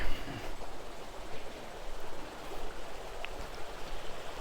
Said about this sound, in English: Goes down to the creek.